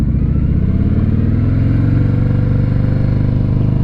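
A Harley-Davidson Sport Glide with a 107 engine rumbles steadily through a corner, a loud, close, even low-pitched throb with wind noise and no speech.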